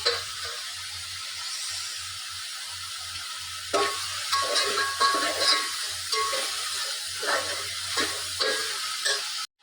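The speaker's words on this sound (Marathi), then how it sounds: "वाटण त्याला चांगलं परतवून घेते." Ground masala paste for prawn biryani sautéing in a pan, a steady close sizzle that briefly drops out near the start and then returns with crackling spatters and stirring scrapes throughout.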